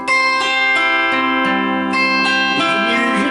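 Lap steel guitar raked across its strings, then gliding through sustained slide notes, loud and close with no voice.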